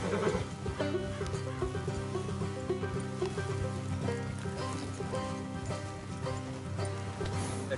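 A horse whinnies in Red Dead Redemption 2 beneath a steady, dense bed of game music and ambience, while riders travel off the road.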